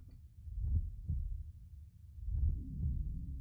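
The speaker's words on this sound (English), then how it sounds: "you can hear the heartbeat." A low, thudding heartbeat effect for the giant ape Kong in the monster film Godzilla vs Kong, with soft, muffled pulses throbbing close and heavy, alone without any talk.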